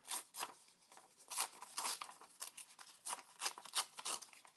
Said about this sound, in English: We might have to tear this one down a little more so it fits on our card.